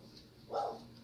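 A single short, muffled bark from Karma the dog, faint and somewhat distant against a quiet indoor background.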